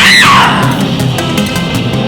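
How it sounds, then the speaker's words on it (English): A loud, close scream rises and falls at a crowded Halloween Haunt event at Canada's Wonderland theme park, then fades into a busy wash of distant crowd noise and further faint yells. "So many screams."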